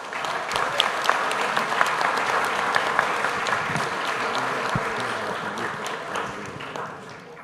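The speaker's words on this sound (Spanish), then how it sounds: "pido un fuerte aplauso para él." A crowd at a book presentation applauds steadily, dense clapping at full strength that tapers off slightly at the end.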